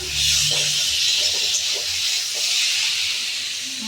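A pot of Bengali fish curry hisses and steams on a stove, a steady loud close bubbling hiss with a few faint clinks, no talking.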